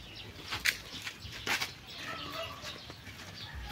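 Layer hens on a farm cluck and flap nearby, with a couple of sharper squawks over a steady background of rustling and farmyard noise.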